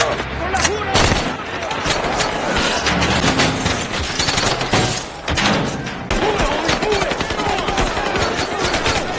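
Rapid bursts of gunfire and heavy thuds from a film shootout between police and a gang, dense and loud throughout, with a narrating voice speaking over the action.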